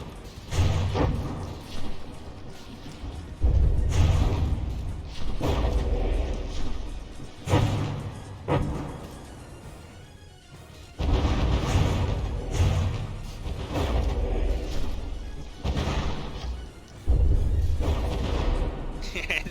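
Battleship in From the Depths being pummeled by incoming gunfire, heavy booming impacts and whooshing shells coming in repeated bursts with short lulls, loud and close throughout.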